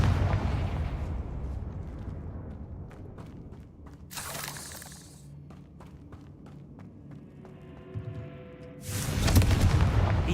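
Confringo fire spells from Hogwarts Legacy land as blasts, one bright explosive burst near four seconds and a second louder one around nine seconds. Scattered impacts and quieter game ambience run between them.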